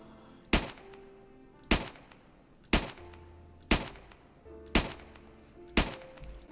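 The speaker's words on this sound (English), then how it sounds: "I think it's finally time we can shoot zombies." Six loud, sharp gunshots ring out at roughly one-second intervals, each a crisp crack with a short decaying tail, fired at zombies in a Minecraft zombie-apocalypse game, with faint background game tones and no talking.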